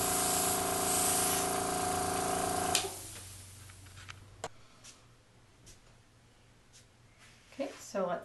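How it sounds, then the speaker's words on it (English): An airbrush hisses in a steady continuous spray of colour onto a buttercream cake for a few seconds, then cuts off, followed by quiet handling clicks and taps. "you want to spray in layers, let it dry a little bit in between."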